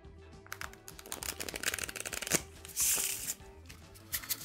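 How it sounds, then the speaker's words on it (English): A deck of cards for the card game Animal Kingdoms is riffled and bridged in quick bursts of crisp flutters and snaps, close and fairly loud, with small handling clicks between. "I'll give these a quick shuffle."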